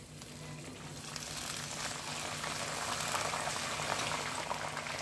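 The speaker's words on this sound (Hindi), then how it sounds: "अब यहाँ पे मैं करी लीव्स डाल रही हूँ।" Curry leaves are dropped into hot oil in a pan with dry coconut for a poha oats chivda snack, giving a steady, fairly loud sizzle that keeps bubbling for several seconds with no talking.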